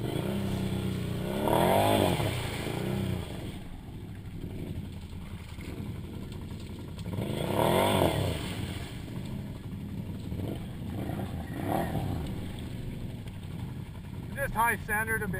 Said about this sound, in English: this was a Muzzy slip-on exhaust that I had installed